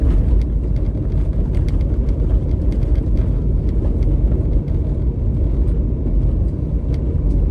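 A car driving along a road toward a village, giving a steady low rumble of engine and tire noise with faint ticks and rattles over it, constant and close, without talk.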